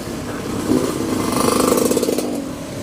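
A motorcycle engine hums and revs steadily nearby at a busy Ramadan bazaar, rising into a buzzing, rattling pulse mid-way before easing off, with a constant background rumble.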